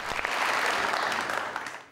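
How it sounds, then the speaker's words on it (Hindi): A studio audience on a Pakistani talk show applauds to welcome a guest, a loud, sustained burst of dense clapping that fills the moment and fades slightly at the end. "बहुत सारी तालियों में।"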